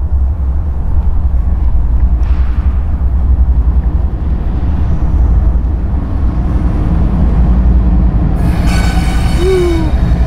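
A loaded freight train carrying wind turbine blades rumbles steadily through a 90 degree curve, loud and close, with metallic wheel squeal and a brief screech near the end.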